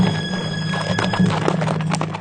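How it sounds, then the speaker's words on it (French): Horses gallop in a fairy-tale scene, a band of riders approaching fast; steady clip-clop hoofbeats run throughout at an even, fairly loud level with a low droning bed beneath, no voices over it. "il entendit un bruit de galop"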